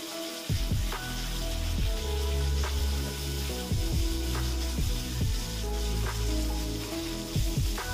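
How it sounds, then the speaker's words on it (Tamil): Mustard seeds and curry leaves sizzle in hot oil while a squid curry is being made, with a steady close hiss and sharp crackles and pops scattered throughout and no talking. "கடுகு நல்லா பொரிஞ்சதுக்கப்புறம் கருவேப்பிலையை போட்டுக்கோங்க"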